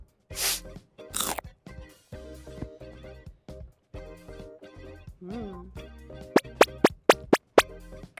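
A cream cheese brownie square flavoured with orange is bitten and chewed close to the microphone, with two loud crunchy bites at first, then soft wet chewing, and a quick run of sharp clicks near the end.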